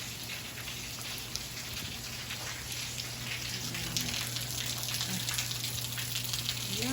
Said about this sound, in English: This is the season for all of the rain and the thunder showers.